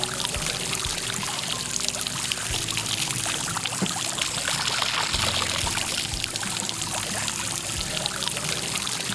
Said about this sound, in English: Make sure you run fresh water through all the screws and fasteners.